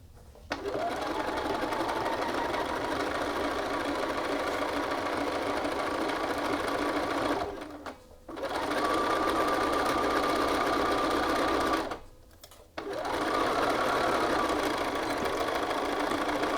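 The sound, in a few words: sewing machine stitching a shirt yoke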